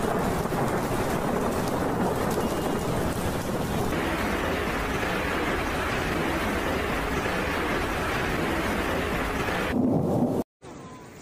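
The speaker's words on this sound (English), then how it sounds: "nature's fury was unleashed in a symphony of strong winds, crackling lightning, and earth-shaking thunder" A powerful thunderstorm over Nancha, China, with strong wind, rain and hail, gives a steady, loud, rumbling roar of wind and rain with thunder, no voices, and cuts off abruptly near the end.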